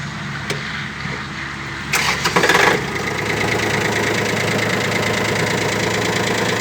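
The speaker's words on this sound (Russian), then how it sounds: "послушаем, как работает трактор" A Kubota L1-185 mini tractor engine with about 311 hours on it runs steadily at idle, a brief burst of revving or clatter near the start, then an even, knocking diesel drone that continues alone.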